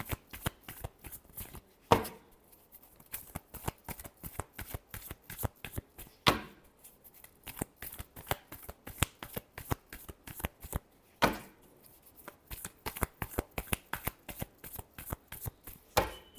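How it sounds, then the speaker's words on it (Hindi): A deck of tarot cards being shuffled by hand, heard as rapid, crisp riffling and flicking in repeated bursts with brief pauses, close and quiet, with no talking. "Last shuffle."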